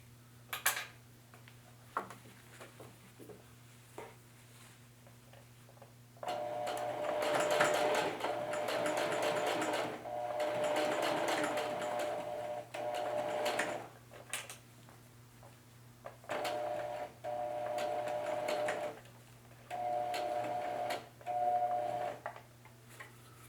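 Sewing machine stitching a pocket onto a cut pant leg, running in several steady bursts of rapid mechanical whirring with a constant hum underneath and quiet pauses between runs.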